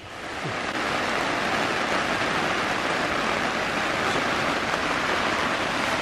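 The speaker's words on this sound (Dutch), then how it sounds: "En het regent nog een beetje harder." Rain drums on the tent cover of a boat moored in a harbour at Ter Oele, a dense, even hiss that swells in the first second, then holds steady and close with no talking.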